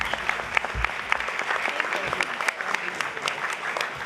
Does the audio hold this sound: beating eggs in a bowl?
no